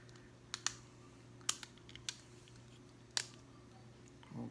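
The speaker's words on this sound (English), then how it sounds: "click it, make sure it clicks." A GoPro Hero8 media mod snaps into place on the camera, producing a few sharp plastic clicks at uneven intervals, close and quiet, with a little handling noise at the end.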